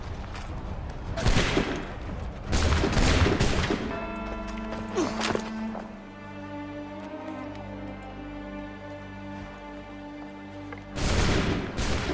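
Musket volleys in Assassin's Creed III, several loud crashing bursts of massed fire followed by a lingering ringing tone, with another burst at the end.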